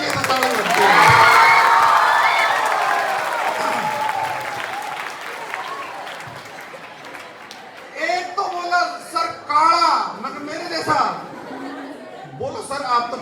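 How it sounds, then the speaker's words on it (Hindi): Comedy show audience breaks into loud clapping and cheers that peak early and fade, then chatter and laughter mix in while a performer starts talking over the dwindling applause. "जोरदार मम्मी की शक्ति के लिए ताली लगती है"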